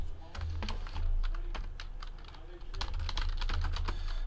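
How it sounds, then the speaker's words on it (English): Rapid keystrokes on a computer keyboard, clattering in quick irregular bursts over a low steady hum, close and fairly loud throughout. "so let's type all of these hits in"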